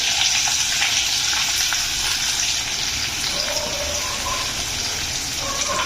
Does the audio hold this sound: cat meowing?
no